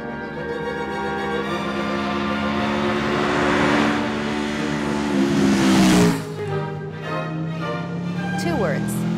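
Aprilia RSV4 R 2010 motorcycle, a 6-speed bike with a 14,000 RPM redline, revs hard and steadily, its engine note climbing to a peak before dropping back to a lower idle, loud and close throughout.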